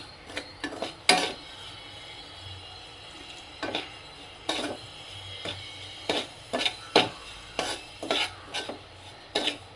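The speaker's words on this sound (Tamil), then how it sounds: "புட்டு பதத்துக்கு இந்த பாலை ஊற்றி ஊற்றி அப்படியே கலரி எடுத்துக்கலாம்." A spoon stirs rava puttu mix while milk is worked in a little at a time. Irregular scraping and gritty rubbing strokes come close and fairly quiet, some in quick clusters, with no talking.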